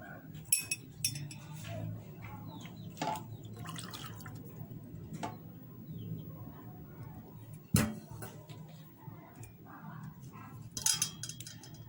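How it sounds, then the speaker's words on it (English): Boiled cloves strained through a strainer into a glass, with scattered drips, light clinks of glass and metal, and soft liquid trickles spaced out over a quiet background. "I'm going to need a strainer and a glass at this moment to strain the cloves in"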